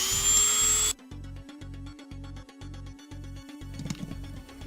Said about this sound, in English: what I'm going to do is take my Dremel and go and do that real quick